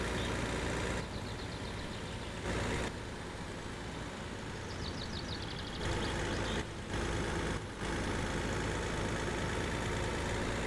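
A truck engine revs up in the driving game My Summer Car, a loud, continuous rumbling drone with a few brief dropouts and no speech.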